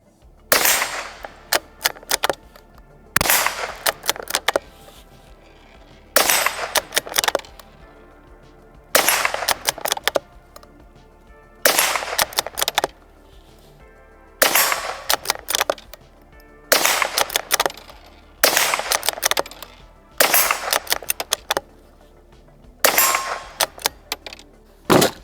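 Sharp metallic shots from a Savage Mark II .22 rifle fitted with a bipod, ringing out in about ten evenly spaced bursts of one or two cracks each, loud and clear with quiet gaps between.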